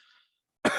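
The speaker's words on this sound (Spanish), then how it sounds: "perdón si hay mucha tos, es que estoy medio enfermo." A single sharp cough from a person who is ill, loud and close, bursting out abruptly at the end after a brief faint trailing sound and a moment of silence.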